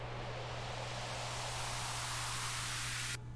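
Steady white noise added as background hiss for a phone call, flat and continuous at moderate level, with a faint low hum beneath, cutting off just before the end.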